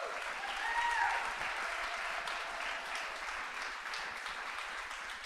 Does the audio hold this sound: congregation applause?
yes